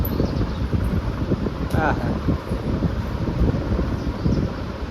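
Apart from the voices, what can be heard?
wind blowing outdoors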